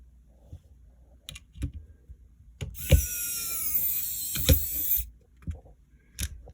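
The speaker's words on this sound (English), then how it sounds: "now we can get our motherboard screws back in" Screws being driven back into a Game Boy Color motherboard, heard as close, sharp clicks and short ratcheting bursts from a small screwdriver, with a longer stretch of steady turning in the middle.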